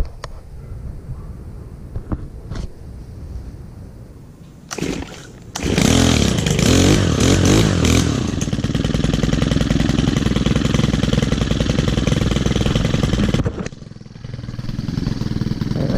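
A lawn mower engine is pulled to start, catches with a loud roar, then settles into a steady close-up running drone for several seconds before dropping back briefly.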